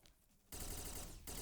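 Rapid automatic gunfire from the shooting game XSHOT, fired at mummies, bursts in abruptly after a quieter moment as a dense, loud stream of shots lasting under a second.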